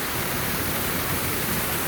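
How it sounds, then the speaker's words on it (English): A waterfall spills over an old broken dam at the end of a half-mile hike in the Lehigh Valley, producing a loud, close, unbroken rushing roar. "We found the waterfall."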